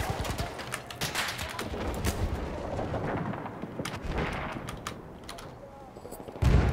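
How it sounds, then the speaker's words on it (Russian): Dense, continuous gunfire in the Battlefield 1 video game, enemy machine gun bursts mixed with scattered shots and explosions, loud and busy for the whole stretch with a heavier blast near the end. "Там пулеметчик противника!"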